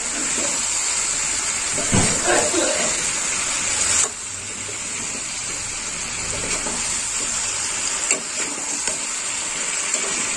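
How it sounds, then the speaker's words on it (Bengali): Raw cauliflower curry cooking down in a pan, a steady broad frying hiss with occasional scrapes and stirring knocks from the spoon, close and fairly loud throughout. "এই কপিটা শুধু কষে কষে রান্না করতে হবে।"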